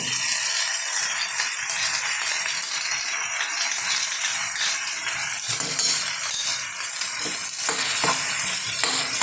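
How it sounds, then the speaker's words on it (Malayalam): Soaked coriander, chili powder, turmeric and a pinch of asafoetida drop into a hot pan for an Onam pickle, giving a loud, steady sizzle and frying hiss with rattling stirs and scrapes of utensil on metal. "ഇനി നമ്മൾ ഇതിനകത്തോട്ട് കുതിർത്ത് വെച്ചിരുന്നല്ലോ മല്ലി, മുളക് പൊടി, മഞ്ഞൾപ്പൊടി, ഒരല്പം കായം, അതെല്ലാം കൂടെ ഇതിലോട്ട് ഇടുകയാണ്"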